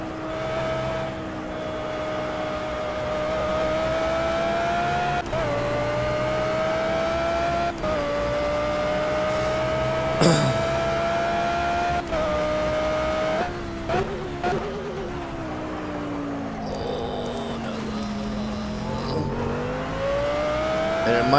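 A GT3 race car engine in Project Cars on Xbox One drones steadily, its pitch rising and falling through gear shifts, with brief tire squeal and no talking.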